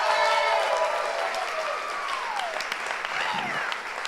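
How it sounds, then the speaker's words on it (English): A steady round of applause rises from the audience at an event, even and moderately loud throughout, with a few voices audible within the crowd. "She deserves a round of applause for this event."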